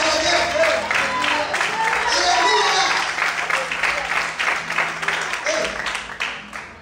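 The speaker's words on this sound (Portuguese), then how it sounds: "Você pode aplaudir?" Church congregation clapping and applauding during an evening worship service, a dense sustained wash of hands with voices shouting praise over it, fading slightly toward the end.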